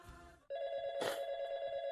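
A telephone rings in the video game YIIK, a bright electronic bell tone starting abruptly and sustaining loudly, with a brief burst of noise partway through.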